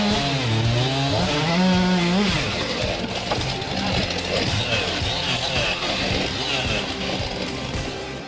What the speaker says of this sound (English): This is a fun chainsaw competition